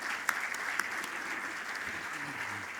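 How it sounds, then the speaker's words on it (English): An audience applauding to welcome Mr. Aman Gupta at a university orientation, sustained moderate clapping with a couple of sharper individual claps standing out early on. "let's have a huge round of applause for him."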